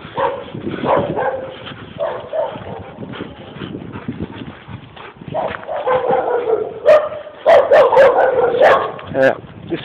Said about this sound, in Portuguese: Um bando de cães correndo atrás de um porco aqui.